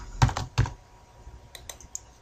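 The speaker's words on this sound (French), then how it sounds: "Ici, je tape le bon ancien mot de passe." A computer keyboard clicks as a password is typed: a few distinct close keystrokes, then lighter taps after a short pause.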